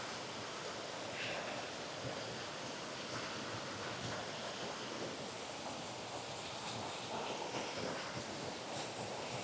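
A river in the Great Smoky Mountains, heard as a steady, soft, broadband rushing wash that stays even and fairly faint throughout, with no voices.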